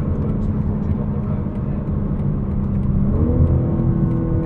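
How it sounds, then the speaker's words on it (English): The B58 engine of a 2022 BMW M4 Competition xDrive convertible hums steadily under road roar while driving, then swells as the revs climb in the last second. "And I do really like the way this B58 sounds."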